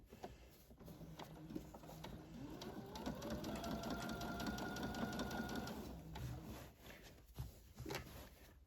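A sewing machine stitches a scrub top seam in a steady, rapid mechanical whir lasting several seconds, starting and stopping around a few clicks and handling noises, fairly quiet and close.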